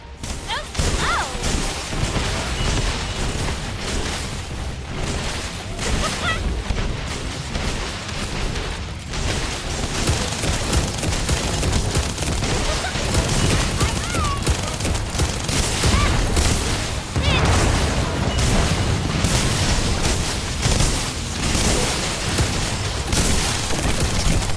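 Sustained heavy gunfire and crashing impacts in The First Descendant as players shoot down a defenseless Vulgus aircraft while it resupplies, a dense, loud barrage running throughout with occasional booms and brief voice snippets.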